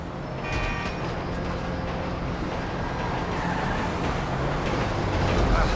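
A truck engine drones steadily as the vehicle drives in Grand Theft Auto V, a loud continuous rumble that swells slightly toward the end, with no talk.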